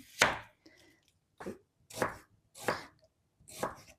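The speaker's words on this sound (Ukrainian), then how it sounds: "цибулька, нарізаємо кубиком" Five sharp knife chops dicing an onion on a cutting board, spaced roughly half a second apart, close and crisp with quiet gaps between strokes.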